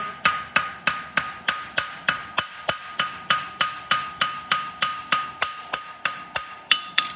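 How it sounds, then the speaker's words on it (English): The round side of a hammer taps steadily on nails in an egg bar horseshoe, about twenty-five crisp metallic strikes at an even, quick rhythm, close and clear with no talking. "round side of the hammer, we're just going to seat out from the heel nail round to the toe"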